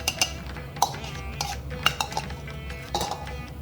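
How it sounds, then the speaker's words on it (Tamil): Ground paste being stirred into boiling horse gram rasam in a pot, with several sharp metallic clinks and scrapes of a spoon against the vessel over a low steady background. "நம்ம இப்போ இந்த அரைச்சதை போட்டுடலாம்"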